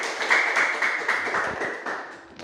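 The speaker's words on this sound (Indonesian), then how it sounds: "Oke, tepuk tangan untuk kelompok 3." A classroom of students claps for a student group, a short burst of scattered applause that is moderately close and carries no speech.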